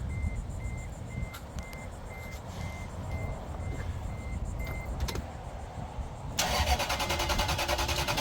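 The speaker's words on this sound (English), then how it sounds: "So now it's got power while cranking." A Toyota engine cranks during a jump start with a steady rhythmic grinding churn while a chime beeps at even intervals, then a louder harsher burst of cranking near the end.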